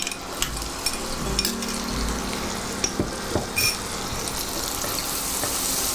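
Chopped onion frying in butter makes a moderate sizzle with a few utensil knocks and scrapes, steady throughout, with no one talking.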